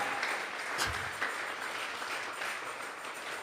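A church congregation applauds together as an offering of praise, a dense, fairly faint and steady wash of clapping that holds for several seconds.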